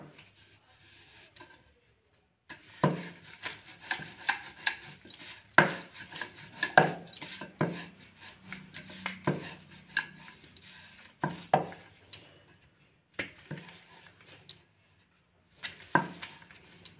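Radish paratha dough is rolled out with a rolling pin, giving intermittent knocks, taps and soft rolling scrapes on a board, close and fairly quiet, with short pauses between strokes.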